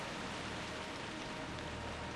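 Steady rain falls in World of Warcraft Classic in the Feralas zone, a soft, even hiss that stays constant throughout with no voices.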